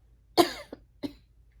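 A single sharp cough, fairly close, followed by two shorter, softer coughs in quick succession, then quiet.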